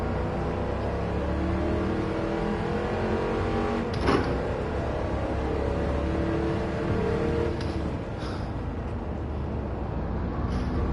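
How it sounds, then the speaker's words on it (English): A 50-year-old Pontiac GTO Judge muscle car engine in the Gran Turismo 7 racing game, a loud steady droning rumble that holds on continuously with only slight changes in pitch. "This is an old muscle car."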